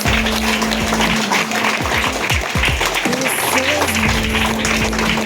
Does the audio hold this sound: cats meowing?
no